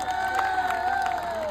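A concert audience greeting the singer with loud cheering and clapping that fills the space continuously, while a steady tone from the stage carries through.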